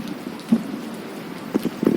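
Heavy rain falls hard outdoors in a continuous roar of drops pattering on nearby surfaces, with a few sharper splashes standing out, fairly loud and with no talking.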